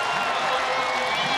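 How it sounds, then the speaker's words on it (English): Brief burst of a rugby crowd giving a standing ovation at Athletic Park for the 1997 Hurricanes v Brumbies match, a thick continuous roar of cheering and clapping filling the whole moment. "Standing ovation at the beginning."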